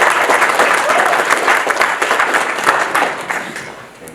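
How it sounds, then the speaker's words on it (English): Loud, dense applause from a large conference audience, steady clapping that swells slightly then gradually tapers off, with no voices on top. "So give yourselves a round of applause."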